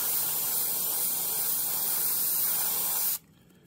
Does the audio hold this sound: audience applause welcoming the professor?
no